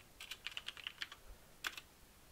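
Quiet keystrokes tapped on a computer keyboard while a Ruby on Rails command is entered on a Windows machine, a quick irregular run of clicks, then a pause and a short final burst, with no talking.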